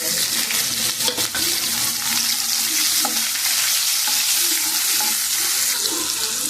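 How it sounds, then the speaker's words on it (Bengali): Onions fry with spices in hot oil for an egg recipe, giving a loud, steady sizzle close up. Occasional scraping knocks come from stirring in the pan. "পেঁয়াজগুলো একটু নাড়িয়ে চাড়িয়ে আমি ঢাকা দিয়ে দিলাম"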